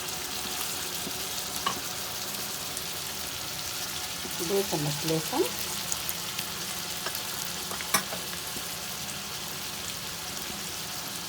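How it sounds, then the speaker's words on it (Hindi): Beef liver frying in ghee for an Eid kaleji fry, a steady sizzling hiss throughout with a brief burst of stirring and spattering in the middle, while someone talks over it. "इस तरह घी में तल लेते हैं"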